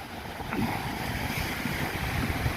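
Sea waves on Nam Rin beach in Ban Chang, Rayong, a continuous rough wash of surf mixed with wind buffeting the microphone, loud and steady throughout with no voices.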